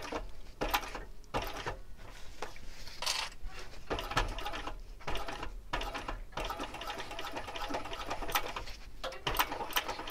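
A sewing machine stitches a clutch bag in short bursts of rapid mechanical whirring, broken by brief pauses, nearby and alone without talk.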